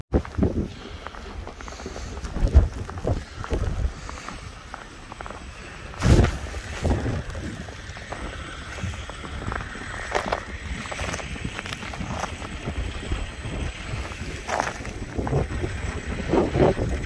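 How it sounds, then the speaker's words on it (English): Constant blizzard wind blows at a highway rest stop, a steady broadband rush with gusty swells, mixed with scattered knocks and thumps close by. "Wind has not stopped at all."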